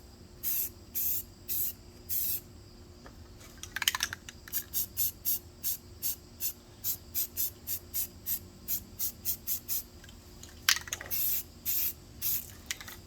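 Clean metal primer spritzed from a spray can onto a McCulloch Super Pro 125 chainsaw part in short, light hissing bursts, about two dozen quick sprays at an even rhythm with a few longer passes, close and fairly quiet.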